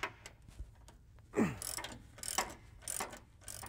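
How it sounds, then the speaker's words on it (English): Control arm bolts being undone on a Chevy Silverado produce close, short ratcheting and metallic clicks in a few irregular bursts, with scraping and clanks between them and no talking. "I can undo the lower control arm bolts, followed by the upper control arm bolts."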